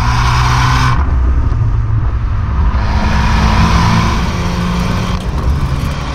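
An Abarth 695 front-wheel-drive car is driven through corners, its engine a loud, steady drone heard from inside the cabin with a small dip and rise in pitch as the driver eases and gets back on the throttle.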